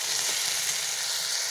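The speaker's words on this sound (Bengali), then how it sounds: "প্রথমে আলুগুলো ভেজে নেব।" Potato pieces fry in hot oil for a Bengali goat tripe recipe with tomato and potato, giving a steady, close, loud sizzle with no voices.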